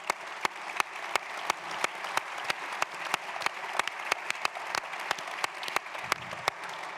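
A round of applause at a school wellbeing leadership certification event, with distinct sharp claps standing out over a steady wash of audience clapping.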